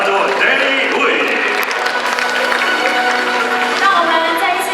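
Audience applause and crowd noise fill a pageant hall as the Miss Chinese World 2017 chairman is welcomed to the stage, a steady dense wash of clapping with a voice mixed in.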